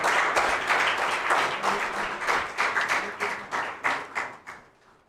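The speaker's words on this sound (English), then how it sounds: "The applause should not stop." An audience applauds at a yoga award ceremony, a steady burst of clapping that thins into scattered claps and fades out over about five seconds.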